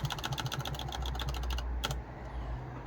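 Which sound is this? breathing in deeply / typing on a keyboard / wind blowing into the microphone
typing on a keyboard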